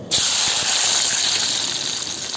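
Garlic tipped into hot oil bursts into a loud, dense, continuous sizzle that holds steady with faint crackles throughout.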